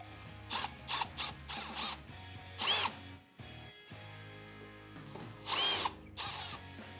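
Screws are driven out of the headlight ring on a Harley Road King Special with a power driver, giving several short bursts of whirring and ratcheting separated by brief pauses.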